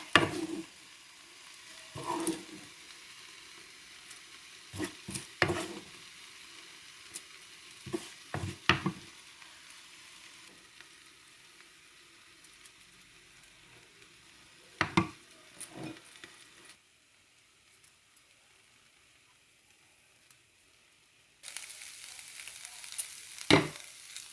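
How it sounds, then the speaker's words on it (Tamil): Snake gourd sautés in a pan until golden brown, with a low sizzle broken by intermittent scrapes and clinks of a spoon against metal, a quieter pause midway, then stirring noise again. "வதங்கி வரட்டும் இப்போ பொன்னிறமாக வதங்கி வந்துட்டுது"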